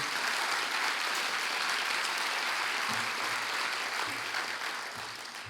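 Audience applause at the Folsom State of the City 2020 event, a broad sustained roar of many hands clapping that fades slightly toward the end, with faint low murmurs beneath.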